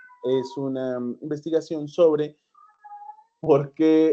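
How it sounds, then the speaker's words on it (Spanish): A house cat meows repeatedly in the background, its drawn-out, wavering calls mixed in with a person speaking Spanish close to the microphone. "si escuchan de fondo es mi gato que está haciendo bulla"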